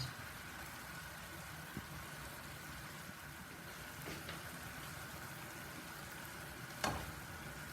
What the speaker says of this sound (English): Our fillet is in, so we'll cook it for about 3 to 5 minutes